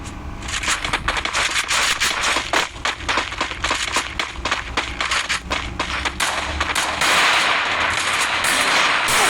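Dense, rapid gunfire from a Counter-Strike match, loud and continuous with bursts of automatic fire, sharp crackling shots and clinking shell-like ticks packed closely together.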